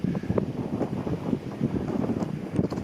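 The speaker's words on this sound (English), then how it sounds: "A bit breezy up here at the moment" Gusty wind buffets the microphone on an exposed hillside, a steady rumbling roar that swells and dips continuously, close and fairly loud, with no voices.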